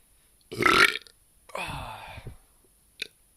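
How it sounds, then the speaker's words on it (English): After tasting a strong beer, a man lets out two loud, close burps, a short one and then a longer rumbling one, followed by a faint click, with quiet between. "If I burp, it's a sign of a good beer."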